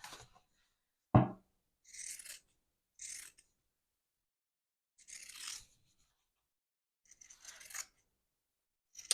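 Fabric being cut with scissors around the corners of a sewn piece, just outside the stitches: several short, separate snips and rasps, close and fairly quiet, with silent gaps between them.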